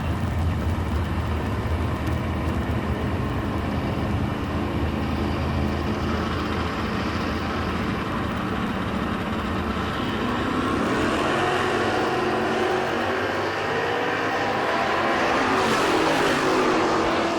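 Drag racing cars, including a 1983 Firebird, roar off the line at a drag strip, loud continuous engine noise building and rising in pitch toward the end as they accelerate away.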